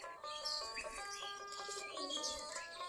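A desi giribaz pigeon chick begs for food among a loft of pigeons, making a run of thin, high, wavering calls close by, faint against a quiet background.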